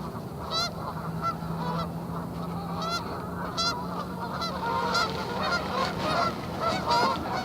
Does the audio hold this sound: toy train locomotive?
no